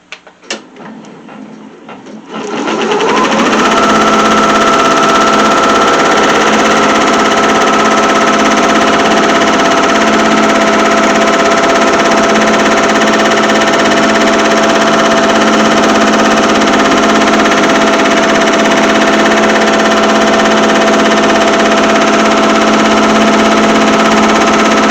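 An embroidery machine starts up and stitches out a piece for a handmade bear, a loud, steady mechanical whir that runs unbroken after a few quiet seconds.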